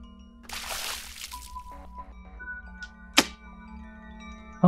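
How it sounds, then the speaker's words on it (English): Water splashes onto a black spot in the Ib remake game, a short sloshing pour lasting about a second, then a few small clicks and a sharp tap against a steady low hum. "Ib, are you thinking of pouring water on the black spot?"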